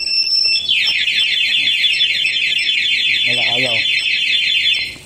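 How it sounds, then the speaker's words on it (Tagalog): A loud, rapidly warbling anti-theft alarm on a Honda Fazzio scooter wails continuously up close, with a brief voice speaking partway through. "lagyan natin ng anti-theft alarm"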